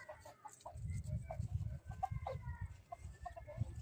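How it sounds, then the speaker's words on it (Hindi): Several free-roaming hens cluck softly in a yard, sounding as short, repeated, low murmuring calls at moderate distance with a faint outdoor background. "मुर्गियाँ मेरी यहाँ घूम रही हैं।"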